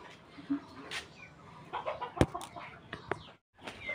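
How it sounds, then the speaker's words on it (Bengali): Chickens cluck in short scattered bursts at a farmyard feeding, with a louder sharp call near the middle and a brief silent gap before the end. "মুরগির খাবারগুলো দিয়ে দিই।"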